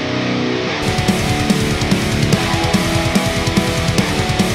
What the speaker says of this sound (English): that, ladies and gentlemen, is how you make thick guitars